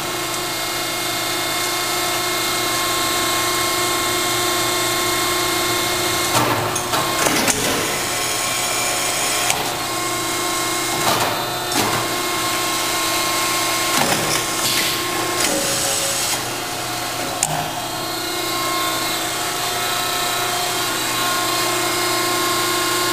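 A Pines No. 2 tube bender, model ENC 075, runs steadily through its program with a constant mechanical hum, broken by several clanking, clattering bursts as its carriages move and the bend cycles progress.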